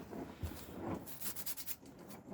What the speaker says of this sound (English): So now I'm just going to mark these holes from the back side.